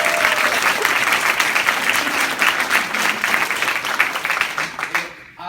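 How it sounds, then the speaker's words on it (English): An audience at a Young Living corporate rally breaks into loud, sustained applause that continues without pause before dying away abruptly at the end. "So let's give her a round of applause."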